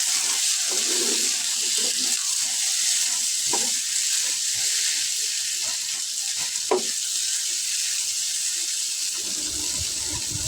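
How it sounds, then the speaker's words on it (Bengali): Beef brain sizzles steadily in a pan while it is stirred, a loud, continuous frying hiss broken by occasional scrapes and clinks close by, with no voices. "এখন প্যানে একটু ভাজা ভাজা করে নিব একটু নেড়ে চেড়ে ভালোভাবে ভাজা ভাজা করে নিব"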